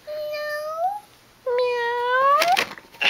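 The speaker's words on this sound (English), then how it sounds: "That's the cat." A cat meows twice in clear, close, drawn-out calls, the second longer and rising, with no talking over it.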